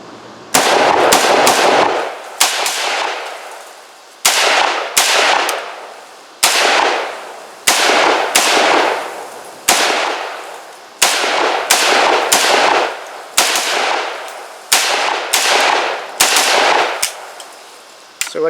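An Arsenal SLR106CR .223 AK rifle fired outdoors, loud sharp shots in quick strings and pairs with short pauses, each crack trailing a brief echo, about a full magazine's worth.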